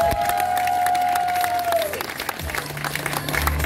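Wedding guests applaud during the exchange of rings at a volunteer-organized wedding in Zaporizhzhia, a short burst of clapping and crowd noise with a held musical tone fading out beneath it.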